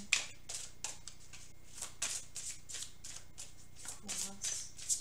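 Tarot cards being shuffled for a reading, with a quick series of crisp riffling bursts at a fairly even rhythm, close and clear, over quiet room tone.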